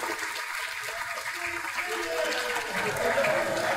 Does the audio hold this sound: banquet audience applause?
yes